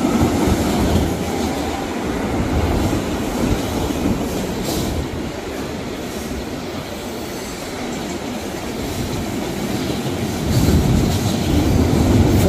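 A CN freight train rolls past on the railroad at Bayview on an August evening. A steady, loud rumble of wheels and cars fills the whole stretch, with some wheel squeal and clatter. No one speaks.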